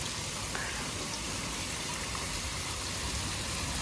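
Dense, constant hiss of rain falling steadily in a village, loud and close, with no breaks or pauses.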